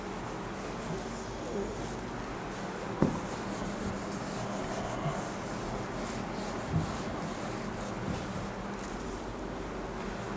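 Steady scrubbing and rubbing as writing is erased from a classroom board during a maths lesson, a close continuous rough swishing with a couple of soft knocks and no talking.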